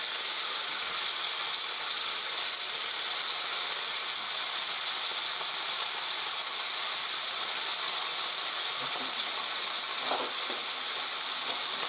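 Steaks sear in a very hot pot on a cold day, giving a loud, continuous hissing sizzle of fat and steam that holds steady throughout, with a few faint pops and no voices.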